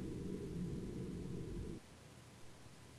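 Low rumbling thunder from a lightning strike in the horror video game Witch House, a steady broad roll that cuts off abruptly partway through, leaving quiet background hiss.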